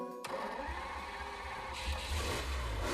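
Ferrari engine in the Gran Turismo 6 racing game, a steady low engine drone that swells louder in the second half, heard alone without talk.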